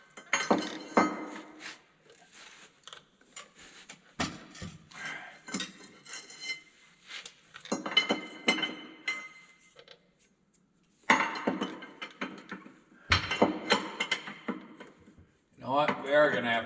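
Metal tools clink and clank in irregular bursts as the drive motor adjuster on a Bobcat skid steer is loosened, with short quiet pauses between the bursts.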